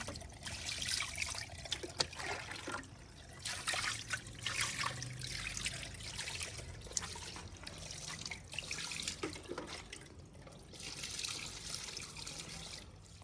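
Tap water runs steadily into a sink while fish is washed by hand in a village kitchen, a continuous faint trickling stream with soft splashes and handling noises throughout, no speech.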